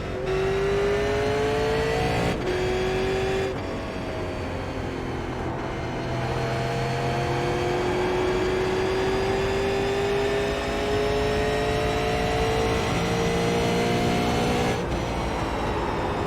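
A Super Late Model race car engine in the iRacing video game at Richmond drones loudly and steadily, its pitch climbing gradually with brief shifts and lifts, heard alone with no talk.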